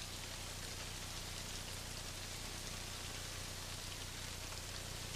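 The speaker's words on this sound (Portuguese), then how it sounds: "A forte chuva tropical causa uma paralisação na escavação." Heavy tropical rain pours down at an excavation site in Africa, a dense, steady hiss of downpour that stays loud and unbroken throughout with no voices.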